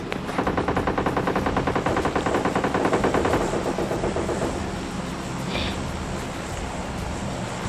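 Rapid automatic gunfire from PUBG Mobile Lite, a video game, with dense bursts of shots over the first few seconds, then steadier rattling fire and ambient game noise, loud and with no talk.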